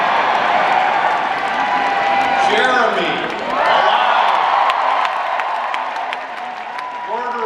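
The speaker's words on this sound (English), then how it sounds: "you're going to start applauding" Large audience at a Rock Hall of Fame induction ceremony in Brooklyn applauding and cheering continuously, dense clapping with whoops and shouts filling the room, a voice briefly audible over the crowd.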